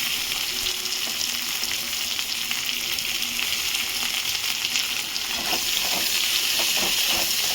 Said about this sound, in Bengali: পেঁয়াজগুলো ভেজে ফিরছি।